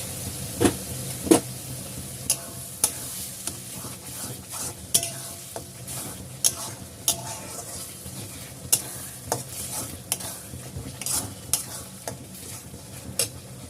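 Spice masala stir-fried in a pan for a spicy prawn and potato curry, with a steady sizzle broken by regular sharp scrapes and clinks of a spoon against the pan, close up and with no voices.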